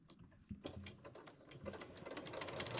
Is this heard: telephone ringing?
no